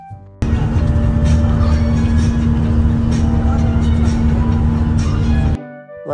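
Steady low engine drone and road rumble inside a moving Victory Liner bus, loud and continuous for several seconds before cutting off, with a faint tonal hum and no clear talking.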